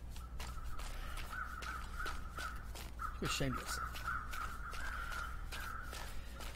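Crows caw near a corpse in the survival game The Long Dark, repeating rhythmically over a low, steady wind. Someone talks over them, and a short creak or screech stands out midway through.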